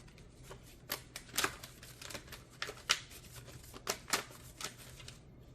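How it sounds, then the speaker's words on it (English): Archangel Oracle cards being shuffled by hand in a quiet room, a run of crisp riffling slaps and papery flicks in uneven bursts, close and fairly soft, with no talking. "Let's keep shuffling."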